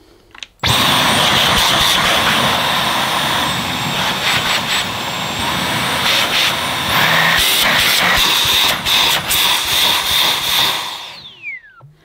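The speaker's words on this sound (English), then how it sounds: "That pulsating sound is normal if you block the suction off" A Dyson V12 Detect cordless vacuum cleaner with its suction blocked runs as a loud, steady high whine and roar that pulses and flutters over about eleven seconds before it shuts off, with no speech.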